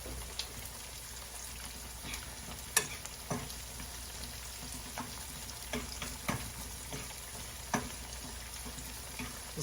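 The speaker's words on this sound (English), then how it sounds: "I'm just going to let the onions just simmer a little bit more." Onions and chopped cauliflower sizzle in a frying pan, a steady crackling hiss with scattered pops and spits throughout, fairly quiet and close, with no talking.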